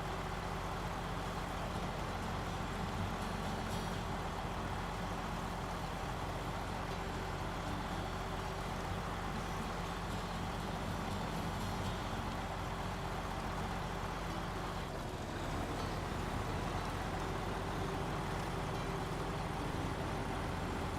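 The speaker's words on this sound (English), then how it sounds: "The truck I'm driving is one of the new ones." A steady, low engine of a new truck in a truck simulator video game drones on at a constant pace, with a faint shift midway and no voices.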